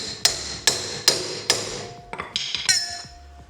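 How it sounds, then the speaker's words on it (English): A bearing knocker driving a hub in during back axle work: four evenly spaced sharp metallic strikes, then a quicker cluster of lighter ringing taps, close and clear with no talking. "we'll use our bearing knocker just to drive the hub in"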